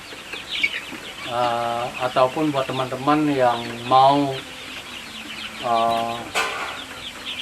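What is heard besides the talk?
chickens clucking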